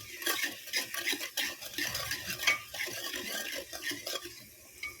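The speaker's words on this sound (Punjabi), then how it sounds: "ਸਾਰਾ ਮਸਾਲਾ ਆਪਾਂ ਚੰਗੀ ਤਰ੍ਹਾਂ ਭੁੰਨਣਾ ਹੈ" Spice masala roasts in a pan for kadhi, a spoon scraping and stirring in quick uneven strokes with faint sizzling, close and moderately loud, no voices.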